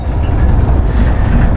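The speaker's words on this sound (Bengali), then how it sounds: "সাথে একটা ট্রেনও যাচ্ছে" A train rolls alongside on the approach to the Jamuna bridge in Bangladesh, bound for Khulna, giving a steady, close, heavy low rumble with no break and no voices.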